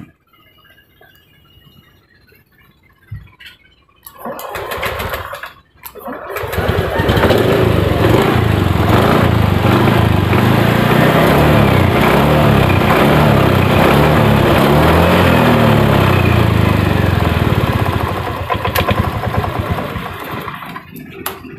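Honda Beat ESP scooter engine cranked and started, catching after a brief stutter, then running loudly and steadily up close before easing slightly near the end.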